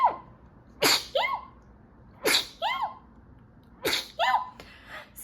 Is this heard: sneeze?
yes